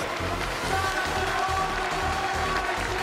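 Team members applaud and cheer as the wheelchair winner crosses the finish line of a para-ekiden relay race, a steady wash of clapping and crowd noise with voices mixed in.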